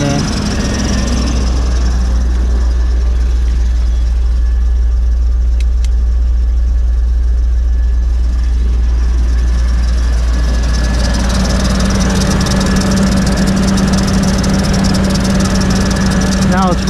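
Land Rover Discovery 2 engine idling with an auxiliary fan running, a loud steady low rumble and whooshing airflow that stays constant throughout, growing slightly stronger toward the end.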